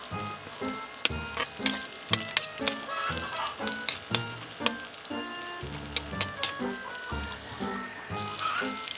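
Bagumon frying in a pan with ginger, garlic and onion sizzles steadily, broken by repeated sharp clacks of a utensil stirring and scraping against the pan, with no talking.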